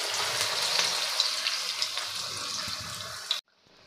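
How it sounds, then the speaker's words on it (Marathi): Vada shallow-frying in oil in a wide, shallow pan gives a steady, close sizzle with small pops and crackles, then drops away suddenly near the end. "आणि छान असे हे शॅलो फ्राय करून घ्यायचे आहे।"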